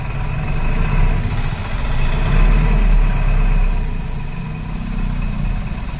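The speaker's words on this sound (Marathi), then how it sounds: "भयानक किती फोर्स करावं लागतंय बघा त्या ट्रॅक्टरला तरी काय ते ट्रॉली पाठीमागत चालली" A tractor's heavy engine drones loudly and continuously, its low pitch swelling and easing as it labors under load pulling a trolley.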